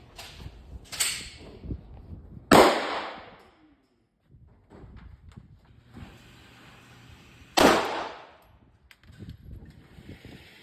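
Glock 43X pistol fired with iron sights at a shooting competition, two loud sharp shots several seconds apart, each with a short decaying echo over quiet outdoor background.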